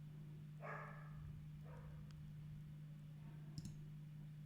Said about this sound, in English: You can hear my dog in the background.